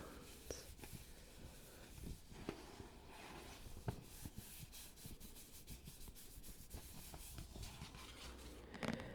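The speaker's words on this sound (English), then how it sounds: "This is like one of my favorite paper sounds." Paper is handled softly and close up during a whispered collection showing: faint rustling, rubbing and crinkling runs steadily, with small taps and scrapes throughout.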